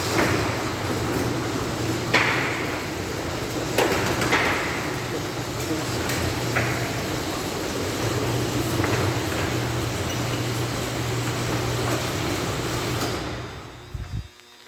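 A commercial garage door opener in an abandoned building runs the door back down, a steady mechanical rumble and hum with a few clanks along the way, then stopping near the end.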